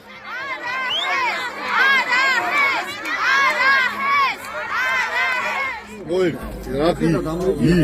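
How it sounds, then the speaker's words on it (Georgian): Protesters at a rally in Vani against a hydropower plant shout slogans together, a loud, rhythmic crowd of many voices chanting at close range. "ბიჭიკო პაიკიძის წარმომადგენლებს აქციის დატოვება არა ჰეს შეძახილების ფონზე მოუხდათ."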